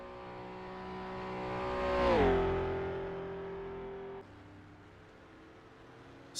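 A Dutch-entered Mercedes driven by Richard Woodcock on the Isle of Man time trial roads, its engine note rising loudly as it approaches, then dropping in pitch as it passes close by and fades to a steady hum.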